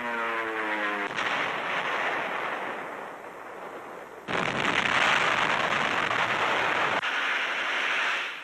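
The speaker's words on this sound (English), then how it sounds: "Dive bombers pave the way, only a few hundred yards ahead of advancing infantry." WWII dive bombers attacking ahead of advancing infantry in northern Burma, heard as a loud continuous roar of aircraft and explosions in an old newsreel recording, with no talking.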